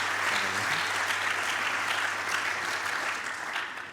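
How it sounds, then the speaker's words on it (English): A graduation ceremony audience applauds classmates who got engaged, a dense, even wash of many hands clapping that holds steady for several seconds before tapering slightly at the end. "Let's give them a warm round of applause."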